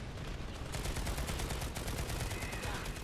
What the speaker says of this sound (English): I think that was a Max that just shot at me